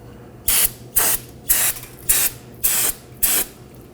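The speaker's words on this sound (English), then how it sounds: "Now one more pass with our brake parts cleaner." Brake parts cleaner hisses out of an aerosol can onto front brakes of a 2015-2023 Nissan Maxima in six short, evenly spaced spray bursts. They are close and loud, with near-silent gaps between them and no talking.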